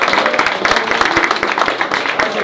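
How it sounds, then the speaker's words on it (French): Applause from an audience at a MESBG tabletop wargaming tournament prize ceremony, a steady dense patter of many hands clapping, loud and close throughout. "Applaudissements."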